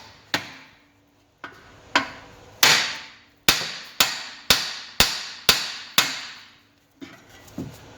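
A series of sharp metallic hammer strikes on a steering rack bolt of an Alfa Romeo 159/Brera, about ten in all, spaced roughly half a second to a second apart, loud and close with short ringing decays.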